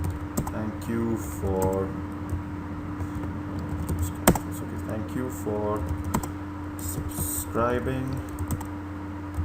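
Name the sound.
typing on a computer keyboard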